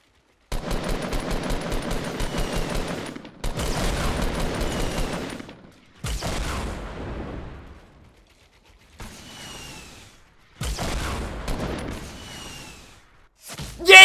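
Rapid automatic gunfire in Fortnite Battle Royale, fired in several loud, close bursts separated by short pauses, with mechanical clatter between the volleys.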